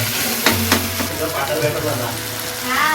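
Prawns coated in turmeric fry in a hot pan with a steady sizzle, broken by a few sharp clinks of a spoon stirring near the start.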